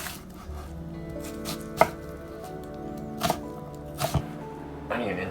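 Knife chopping garlic and onion on a board for split pea soup, a few distinct sharp chops spaced irregularly over a faint background hum, close and moderately quiet.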